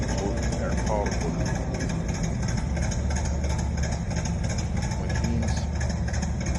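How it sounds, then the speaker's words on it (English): A radial engine running steadily, a loud continuous rumbling drone with an even throbbing texture throughout, with someone talking over it. "I like these kind of radial engines."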